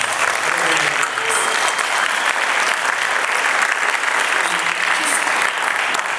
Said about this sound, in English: So if we could give a huge round of applause.